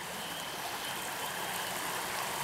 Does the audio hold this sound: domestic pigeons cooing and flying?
no